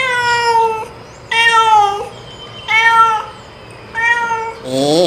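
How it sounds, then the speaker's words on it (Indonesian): Cat meowing, four distinct drawn-out meows spaced about a second apart, clear and close with little background noise. "ini kucing teman-teman"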